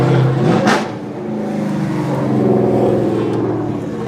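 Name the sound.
Nissan 370Z drift car engine revving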